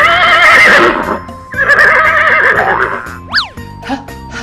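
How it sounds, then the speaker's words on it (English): A horse neighs loudly with a long whinny, then gives a second shorter one, followed by a springy boing effect, all heard over a backing of children's song music. "Horse."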